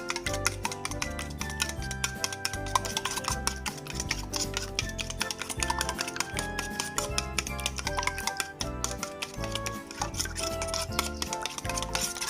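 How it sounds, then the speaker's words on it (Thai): Rapid light clicking and tapping of a whisk beating eggs in a bowl, fast and continuous, close up, with music playing underneath. "จากนั้นเราก็ตีไข่เลยนะคะ ให้ละเอียดค่ะ"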